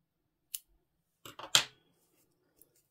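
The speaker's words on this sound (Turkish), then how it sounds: "Şöyle ipimizi kesiyorum." Scissors snip through crochet yarn, with a couple of quiet clicks and then a cluster of three quick close cuts, the last one the loudest, separated by silence.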